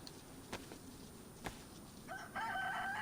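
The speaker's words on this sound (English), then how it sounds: "I hear a chicken." A chicken in the survival game DayZ on Xbox crows and clucks in a short rising burst near the end, fairly close, after a few faint clicks over quiet ambient background.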